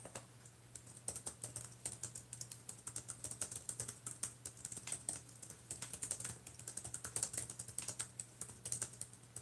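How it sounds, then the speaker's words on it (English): Rapid, uneven clicking of a computer keyboard being typed on at close range continues throughout, over a steady low hum, with no one talking. "So let me type that out."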